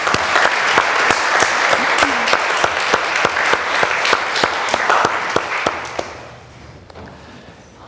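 An audience at a live podcast panel applauds, with a dense, close round of clapping that holds steady for several seconds, then tapers off into quiet.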